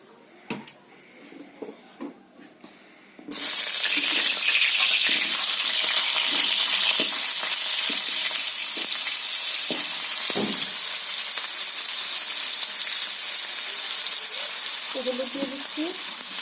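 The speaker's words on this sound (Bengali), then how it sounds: "তো কড়াইতে একটু তেল দিয়ে দিচ্ছি আমি আলুটা ভাজার জন্য।" Potatoes hitting hot oil in a kadai: a few soft utensil clinks, then a sudden loud, steady sizzle that holds close and constant, with light stirring clatter near the end.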